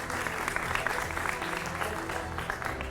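A studio audience at a Hindi political talk show claps to welcome a guest, producing a continuous, moderately loud wash of applause over a low room rumble.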